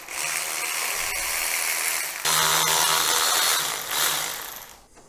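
A power tool whirs against an old lawn mower seat, running in steady loud bursts with a pause and a pitch change midway, then cutting off at the end.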